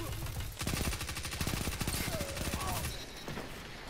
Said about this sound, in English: This submachine gun does feel kind of weak though.